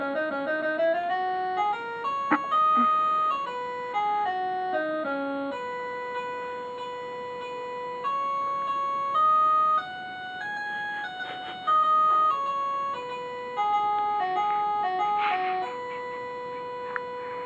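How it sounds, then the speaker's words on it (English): Synthesized saxophone melody programmed in a piano roll, a smooth sustained lead line gliding between held notes with a few bright accents, steady and clear, alone without voices. "here I have the sax thingy, and I put it here in the piano roll, and created this nice little thing"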